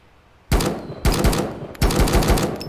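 Video game M4 rifle with a scope, set to single fire, letting off three separate loud bursts of shots at even intervals, close and clear with no voices.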